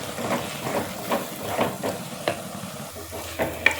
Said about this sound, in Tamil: லைட்டாக வதக்கிடலாம்.